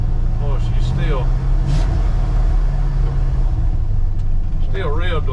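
A 1968 Ford F100 pickup running with a four-barrel carburetor, its engine rumbling and revving loudly close by while someone talks over it.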